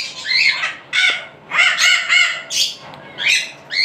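Pet birds of a breeding pair offered for sale squawk and screech in repeated harsh bursts, about seven loud calls in quick succession with short gaps, close by and without talk.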